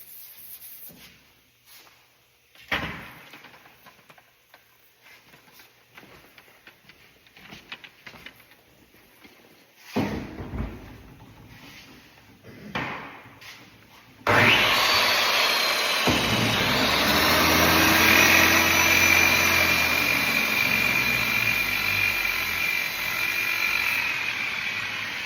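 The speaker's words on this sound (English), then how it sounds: "I'll heat it up with the shrinking disc and then I'll tap that with the planishing hammer" A planishing hammer taps the lower door skin of a 1949 Hudson in scattered sharp strikes, then a shrinking disc spins up against the panel in a loud, sustained whirring grind that continues to the end.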